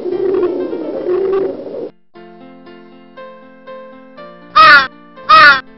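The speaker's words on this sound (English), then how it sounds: "Crow." A crow caws twice near the end, loud and close, following a pigeon-like cooing and a run of steady tonal calls.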